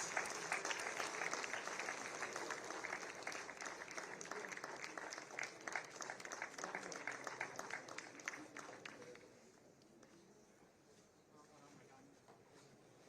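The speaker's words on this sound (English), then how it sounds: "Kindly join me in welcoming the awardees with a warm round of applause." A warm round of audience applause greets the awardees at a national intellectual property awards ceremony, dense and steady for about nine seconds before fading into quieter room noise.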